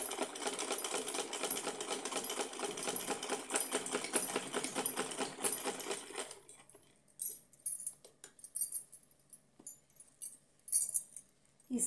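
A sewing machine runs in a fast steady stitching burst for about six seconds on a small fancy dress for a Laddu Gopal idol, then stops, leaving only faint handling clicks and fabric rustles.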